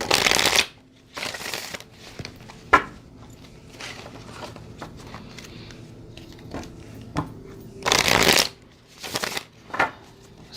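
A deck of Hidden Truth Oracle cards by All Things Intuitive being shuffled by hand, with several loud riffling bursts broken up by softer card taps and handling noises, close up and with no talking.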